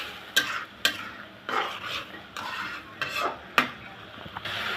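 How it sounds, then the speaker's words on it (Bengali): Spice paste with ginger and garlic paste stirred and fried in a pan for a prawn and red amaranth greens dish: a spoon scrapes and knocks against the pan several times over a steady sizzle, close and clear. "এখন আমি মশলাটা ভালো করে কষিয়ে নিব।"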